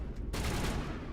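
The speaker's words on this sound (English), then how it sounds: "That was a grenade." A grenade explodes in a video game, a sudden loud burst that lingers as a rumbling, noisy blast.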